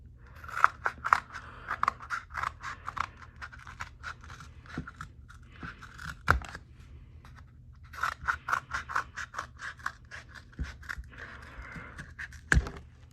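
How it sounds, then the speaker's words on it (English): Scissors cutting cardboard toilet paper rolls into thin rings, giving close, quiet bursts of crisp snipping and scraping in two clusters with brief pauses between cuts. "You could cut the toilet paper rolls as thin or thick as you like."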